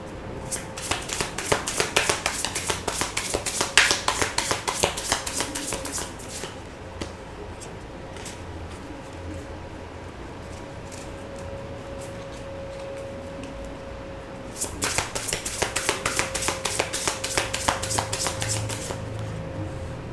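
Tarot cards are shuffled in two bursts of quick, crisp riffling flutter, close and clear, with a quieter stretch of faint card handling between them.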